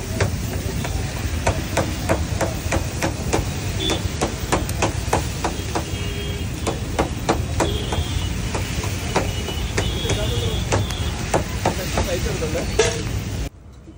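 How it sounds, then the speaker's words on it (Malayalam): Kottu idiyappam being chopped with metal blades on a hot griddle: rapid, irregular clanging strikes repeat steadily for about thirteen seconds over a continuous sizzle, close and fairly loud. "മിക്സ് ചെയ്ത് ഇനി കൊത്തലിൻ്റെ പരിപാടിയാണ്"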